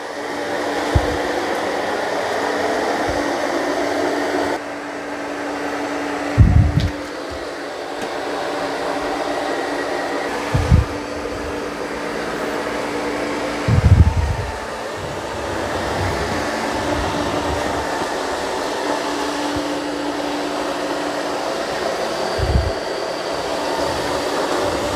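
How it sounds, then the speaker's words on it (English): A Eureka E10s robot vacuum drones steadily as it cleans the floor, a continuous mid-level whir broken by occasional low thumps and bumps as it moves. No voices. "So it's doing a pretty good job vacuuming."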